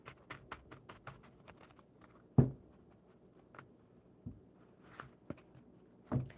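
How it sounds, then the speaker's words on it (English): Quiet, sparse shuffling of oracle cards close by, with soft papery flicks and a few sharper taps at irregular intervals; no talking. "So I'm going to shuffle up these Earth Magic cards for Ranja"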